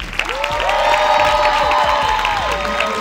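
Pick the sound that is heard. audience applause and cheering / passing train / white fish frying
audience applause and cheering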